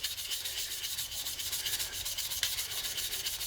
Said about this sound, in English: I'm going to take a new clean area on my paper and go this way lengthwise to remove any sanding scratches